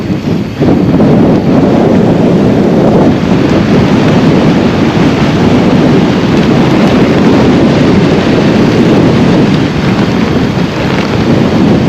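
Strong wind blasts against the microphone during an e-mountain bike ride on Windy Gyle in Northumberland, a loud, constant roaring rumble that stays heavy for the whole stretch with no talking.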